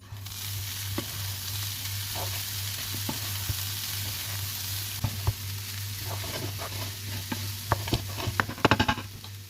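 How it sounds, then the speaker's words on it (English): Onions for samosa filling fry in a pan with a steady close sizzle, stirred now and then with scattered scrapes and taps that grow busier toward the end, no voices. "Now add in the onions. Mix well."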